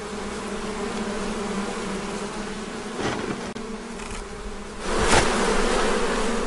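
Honeybees at a beehive make a dense, continuous buzzing drone, close and fairly loud, swelling briefly as individual bees pass near.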